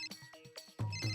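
A telephone ringtone plays briefly, a short electronic melody of several quick tones, loud and close.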